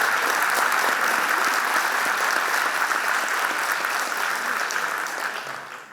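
A talk audience applauds speaker Diego Golombek, dense steady clapping from a crowd that holds evenly for several seconds and then tapers off at the end.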